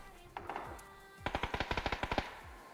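Automatic gunfire in the video game PUBG, a rapid burst of about a dozen shots after a few softer earlier pops, fairly close and clear without talk.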